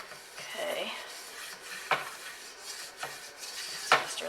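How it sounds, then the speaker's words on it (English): A butter and flour roux stirred in a pan with a utensil, with soft scraping and a few sharp clinks of metal against the pan, close by and moderately loud. "So stir that around, let it cook a little bit so that the roux doesn't taste like flour."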